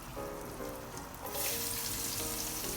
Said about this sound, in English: So you're going to put first garlic to get the aroma.